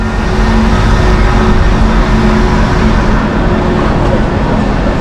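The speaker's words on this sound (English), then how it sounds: "I have to cross over this uh, busy street" Steady roar of busy street traffic in a German town, cars passing continuously at close range with a constant, dense wash of engine and tyre noise.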